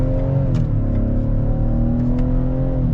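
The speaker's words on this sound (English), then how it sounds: "Getting up and getting an acceleration here." A 2022 Ford Explorer Timberline three-row SUV accelerates with a steady, loud engine drone that rises slightly in pitch, heard from close by without talk.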